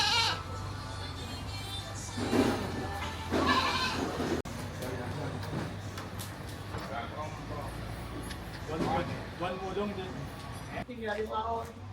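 Goats bleat at a Jamaican Christmas cookout, their calls rising amid a noisy outdoor scene with people talking throughout; several bleats come through at moderate distance over steady background hum.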